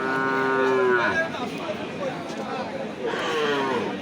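A white cow at a rural cattle market gives a loud, close moo, then a second longer moo, with crowd chatter and voices around it.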